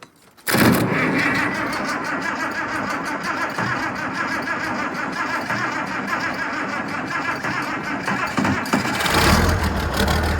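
An International 1468 tractor engine starts up and settles into a steady, rough idle close by, running continuously with a slight rise near the end.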